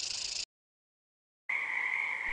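Frogs in a prairie park give a dense, buzzing chorus of croaks that breaks off into silence and returns, loud and steady, with no talk.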